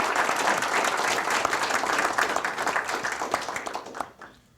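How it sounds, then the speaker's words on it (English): An audience applauds at a 2008 commissioning ceremony, a dense, steady burst of clapping that carries on for a few seconds and then fades away quickly. "But quick round of applause for him."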